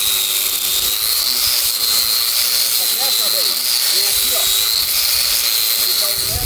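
A power sander works salvaged wood into furniture for a classic wooden boat, giving off a steady, loud, high-pitched whine that runs unbroken throughout, with faint voices underneath.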